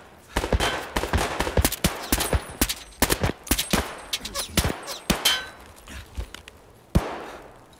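Gunfire in Escape From Tarkov, with a string of sharp, loud shots in irregular bursts and single cracks over several seconds, then a final isolated shot.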